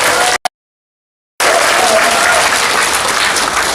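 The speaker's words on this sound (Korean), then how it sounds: "지금까지 멋진 강의 강사님께 다시 한번 뜨거운 박수 부탁드립니다" Applause from a training-session audience of neighborhood leaders at the close of a 2023 capacity-building lecture: a brief burst, a second of silence, then sustained dense clapping filling the room.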